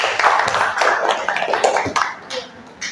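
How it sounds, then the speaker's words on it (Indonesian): Group applause in a classroom presentation session, a short burst of irregular hand claps that fades out over a few seconds. "Tepuk tangan sekali lagi."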